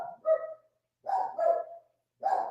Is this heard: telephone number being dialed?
no